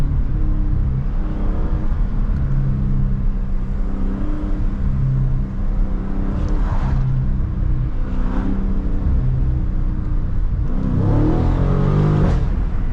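A Dodge Charger Scat Pack widebody's V8 revs in low gear, heard from inside the car as a continuous rumble with several rising pulls and an upshift near the end.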